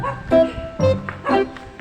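Several dogs bark in short bursts at a rural house in the countryside, three loud yaps spaced across the moment, close by with some whimpering tones between.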